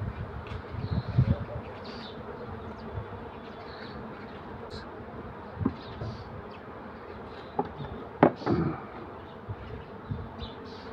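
Honeybees buzz steadily around an open hive during an inspection, a faint continuous drone with occasional louder passes and light handling knocks close by.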